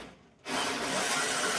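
After a brief quiet moment, a small Bosch cordless drill with a small battery whirs loudly and steadily as it bores into wood, the grinding running without a break.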